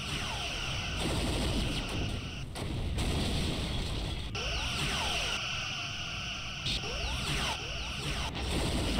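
Torpedoes fire during a Star Trek fleet battle game, with the USS Enterprise-G facing a Proxima-class fleet. Heavy blasts and booms repeat over dense, continuous battle rumble, loud throughout and without voices.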